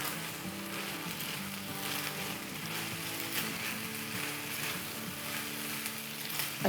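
Green, red, orange and yellow bell peppers and chopped green onions stir-fry in hot oil for chicken kung pao noodles, giving a steady, close sizzle with faint stirring scrapes and no talking.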